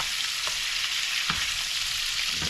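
Pumpkin and shrimp fry in a pan with a loud, continuous sizzle, heard up close, with occasional soft stirring scrapes and no voices.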